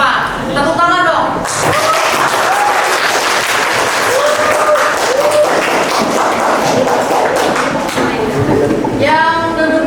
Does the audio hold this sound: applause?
yes